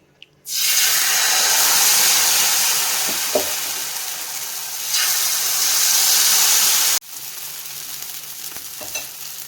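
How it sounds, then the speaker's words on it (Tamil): Dosa batter of mudakathan keerai (balloon vine greens) hits an oiled griddle with a sudden loud, broad sizzle that holds steady and dips slightly, then drops sharply to a softer continuing fry near the end; a few faint clinks. "தோசைக்கல்லில் தோசை ஊற்றிருக்கேன் அதில் நல்லெண்ணெய் சுற்றி ஊற்றிக்கலாம்"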